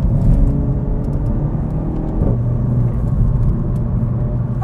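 A car cruises along a narrow country lane with its tires inflated to 40 PSI, a steady close rumble of engine and tire roar heard from inside the cabin, with a slight shift in tone midway.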